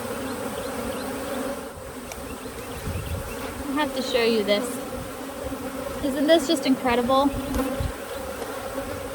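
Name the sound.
honey bees swarming over brood during hive inspection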